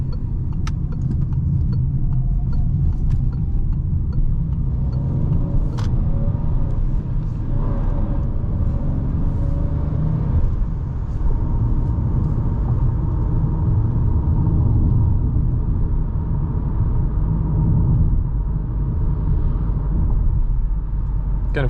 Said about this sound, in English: you can at least in this video hear some sound in the cabin on the highway